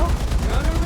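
A T-86 tank's .50 cal machine gun fires in War Thunder, a rapid, dense burst of loud close shots running the whole short moment.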